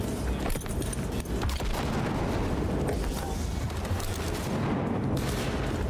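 Rapid, dense gunfire from a fast-firing gun in Cyberpunk 2077 roars continuously for about six seconds, loud and close, with booming impacts blending into a steady barrage.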